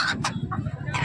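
Hens cluck in short bursts, close by, over a busy murmur of chatter and background noise at the Akola poultry market.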